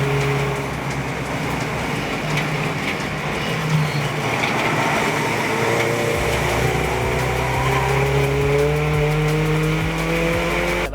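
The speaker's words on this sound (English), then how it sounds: "Scott Parkin in the diesel Golf, you tell, making its way down towards Cascades" A diesel VW Golf race car in a club endurance race at Oulton Park runs hard down towards Cascades, its engine droning loud and close with rising pitch as it accelerates, other cars audible around it.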